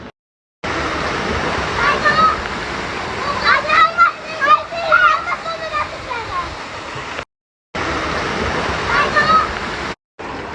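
Rushing river water, a steady loud broadband roar close by, with children and adults talking and shouting over it; the water cuts out briefly twice.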